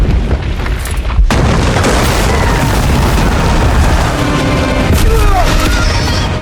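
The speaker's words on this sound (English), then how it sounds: "When they heard the continuous bombardment of artillery" Heavy artillery bombardment in a Game of Thrones battle: a dense, continuous roar of booms and blasts, loud and sustained, with a brief drop before the rumble resumes and scattered sharper bursts near the end.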